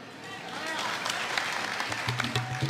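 An audience at a comedy kirtan gathering breaks into scattered clapping for a woman called forward. The applause is fairly faint and patchy, and a voice talks over it.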